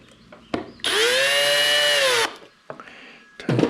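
A power drill with a driver bit drives a screw into a turkey mount in one loud, steady whir of about a second and a half, with brief clicks and handling knocks before and after it, and no voices.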